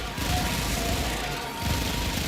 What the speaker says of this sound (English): A bunch of explosions.